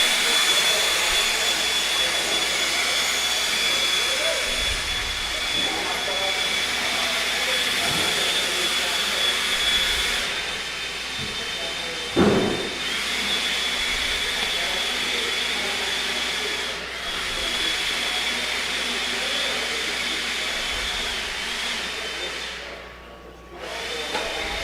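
Blowers roar steadily in a constant loud rushing drone that runs through the whole stretch, with brief dips and a few faint thuds in the background.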